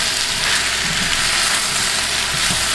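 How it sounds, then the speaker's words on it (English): Chicken and vegetables stir frying in a hot pan, a loud, steady, dense sizzle that holds unbroken throughout with faint stirring underneath. "Just keep stir frying it for a good 5 minutes."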